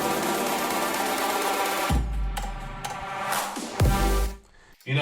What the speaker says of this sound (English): So of course the pre-drop fill sounds like this.